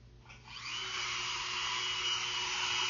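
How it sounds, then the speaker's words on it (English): A Dremel rotary tool fitted with a 1/16 inch bit spins up and whines steadily as it cuts a brace tail on a guitar top, a high continuous buzz heard alone. "Using a Dremel with a 1/16 inch bit that is set the depth of the thickness of the little tail there of the brace"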